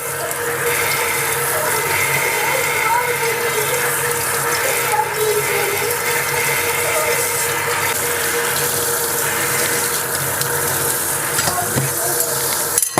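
Tap water runs in a steady, close rush over foam-covered glass stove grates as they are rinsed in a sink. The splashing holds constant and even throughout with no talking.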